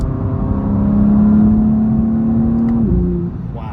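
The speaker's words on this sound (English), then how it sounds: "I'm in 5th gear and I'm high revving." A BMW M2 G87 engine revs high and holds a steady, loud drone in fifth gear, then drops sharply near the end as the pitch falls.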